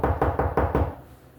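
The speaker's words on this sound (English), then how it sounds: "He knocked on the door." Five firm knocks on a door in quick, even succession, close and solid, followed by a brief fading tail with no one speaking.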